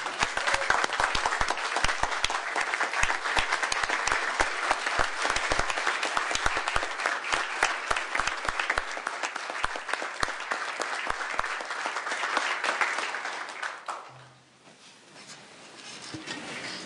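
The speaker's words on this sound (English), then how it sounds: "they deserve every bit of your applause and ovation, please" Audience applause fills a commission meeting hall, steady and fairly loud for about fourteen seconds before tapering off into quiet room noise.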